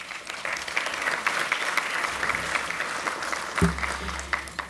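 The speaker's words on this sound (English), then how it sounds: "all of you should give yourselves a round of applause" Audience applause fills a parliamentary friendship and dialogue Iftar dinner in NSW, a steady wash of many hands clapping at moderate volume, with a low rumble entering near the end.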